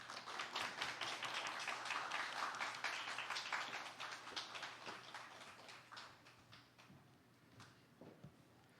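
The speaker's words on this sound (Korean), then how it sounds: "이 교수님 올라오실 때 큰 박수로 환영해 주시기 바랍니다" An audience at a church lecture welcomes a visiting professor to the stage with clapping, a dense burst of claps that swells early, then thins into scattered individual claps and fades toward the end.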